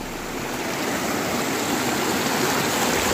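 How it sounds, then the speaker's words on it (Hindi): Meltwater from melting snow flows in a stream in the high mountains of North Sikkim, a steady broadband rushing and gurgling that holds even and fairly loud for the whole stretch with no voices. "पूरा सभी बर्फ पिघल के पानी होके बह रहा है इधर।"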